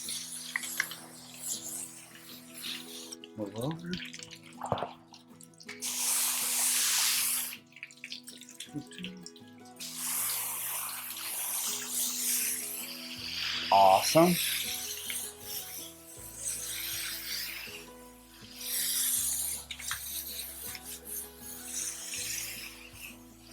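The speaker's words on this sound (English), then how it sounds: "you're squirting all that water to lay" Water sprayed from a hose to rinse shampoo off a horse's coat during a bath, a steady hissing spray that rises and falls in bursts, with a person speaking briefly over it.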